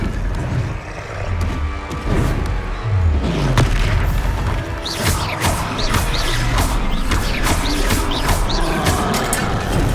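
Confringo fire spell explosions in the Hogwarts Legacy video game, a dense, continuous wall of loud booming blasts and crashing impacts with no pause, close and heavy throughout.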